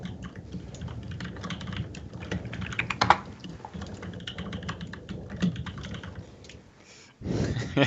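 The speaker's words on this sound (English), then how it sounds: "We're all typing to the admin." Rapid keyboard typing during an online esports tournament qualifier match broadcast, dense clicking keystrokes running steadily under a low hum, with a brief louder burst near the end.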